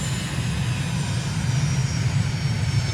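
A propeller airplane's engine drones steadily and close on the runway in Microsoft Flight Simulator, a low, continuous hum with no voices.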